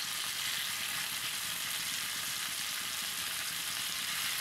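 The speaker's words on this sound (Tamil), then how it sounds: "இன்னைக்கு துண்டு கருவாடு எப்படி பொரிக்கலாம்னு பார்க்க போறோம்." A steady, dense sizzle of dried fish pieces frying in hot oil fills the whole clip, loud and unbroken, with no voices.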